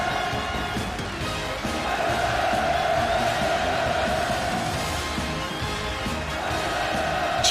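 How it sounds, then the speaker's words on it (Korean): A large audience roars with sustained cheers and shouted hurrahs as the leader appears at a celebratory art performance marking a war victory anniversary, a loud, dense crowd wall that continues steadily throughout. "김정은 동지께서 관람 속에 나오시자 열화 같은 만세 환호성이 터져올라 장례를 진감했습니다"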